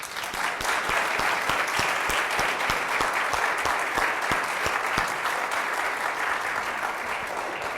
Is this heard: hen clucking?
no